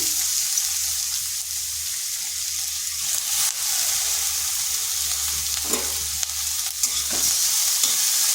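Large chunks of onion frying gently in hot oil, giving a steady soft sizzle with a few occasional scrapes and stirring knocks, with no one talking.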